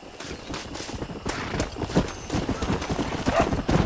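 Horses in the Red Dead Redemption video game clip-clop at a walk with irregular hoof beats and whinny now and then, close by, with occasional speech underneath.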